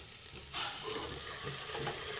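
Food sizzles and fries in a pan, a sudden burst of hissing as chopped bottle gourd is added to sautéing dal, then steady sizzling continues.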